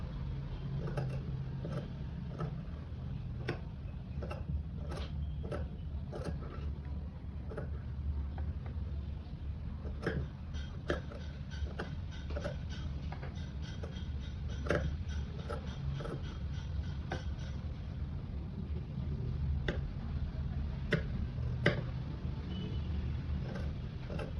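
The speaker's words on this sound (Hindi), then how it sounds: "एक और सिलाई लगा दी है फिनिशिंग के लिए।" A domestic sewing machine runs a finishing seam on a small girl's baby frock. It whirs steadily for the whole stretch, with sharp mechanical clicks and ticks scattered through it and no talking.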